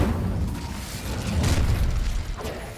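Hogwarts Legacy Incendio fire spell: a roaring, whooshing burst of flame with a low rumbling boom that swells midway and stays loud for a few seconds.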